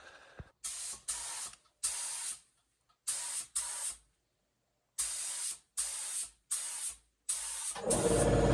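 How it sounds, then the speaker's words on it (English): Spray gun laying clear coat onto a restored B16-swapped EF Civic, heard as repeated close, loud hissing bursts of about a second each separated by short silences, with a steadier broadband rush at the end. "Clear coat coming out well"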